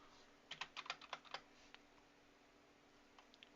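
Computer keyboard typing, a quick burst of close, faint key clicks followed by quiet, then a few isolated taps near the end.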